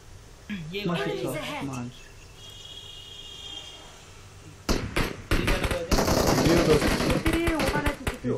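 Rapid bursts of sharp popping video game gunshots crackle loudly in quick succession, following a stretch where a voice speaks and a quiet tone hums.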